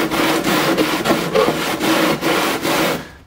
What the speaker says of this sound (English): take like a 220 sandpaper, put it on a nice hard flat surface